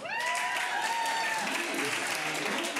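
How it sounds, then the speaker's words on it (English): Audience applause at an improv cage-match show, Friday Night Fights, a steady wash of clapping filling the room for about three seconds, with a whistle-like tone and some cheering mixed in. "Just a round of applause."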